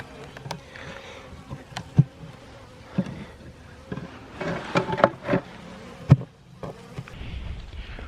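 Honey bees hum in a soft, steady buzz around a hive at an apiary in a warm winter, punctuated by a few sharp knocks and clicks nearby.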